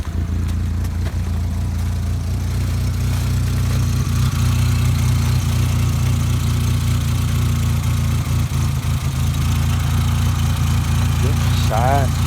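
A 2002 VW Jetta 2.0 sits idling after a cold start, its engine holding a steady, close, even hum with a slight rhythmic throb. A partly clogged exhaust is noted, and brief talk is heard over the idle.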